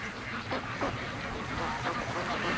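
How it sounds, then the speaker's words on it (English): A flock of domestic ducks quacks continuously as they waddle home from a creek in the late afternoon, a dense overlapping chorus close by, over outdoor background noise. "the ducks are just coming home now"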